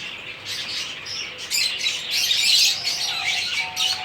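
Several cockatiels chirp and squawk close by in bright, overlapping bursts that grow busier and louder midway.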